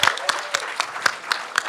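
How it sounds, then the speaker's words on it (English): Sparse, uneven claps from a small panel audience at LA Comic Con, about seven separate slaps in quick succession, fairly close and clear with no voices over them. "Let's give him a round of applause for being here."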